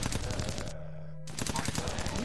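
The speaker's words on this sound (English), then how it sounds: "Keep shooting, guys" Rapid gunfire rattles loudly and continuously in the sci-fi strategy game Sun Age, with a brief gap in the shooting partway through before the bursts resume.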